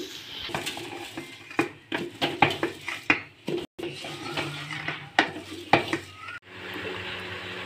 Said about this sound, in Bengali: চাল দিয়ে এবার নাড়তে হবে ভালোভাবে।